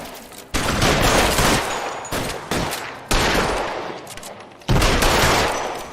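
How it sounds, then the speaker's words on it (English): Several loud bursts of suppressive gunfire ring out close by, each sharp onset trailing into a long echoing decay, with about four distinct volleys spread over a few seconds and no talking. "I'll lay down some suppression fire."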